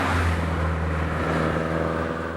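A Nissan Silvia S15 with a forged SR20 engine pulls hard in fifth gear, its loud, steady drone close and continuous with a deep low-end hum, no voices.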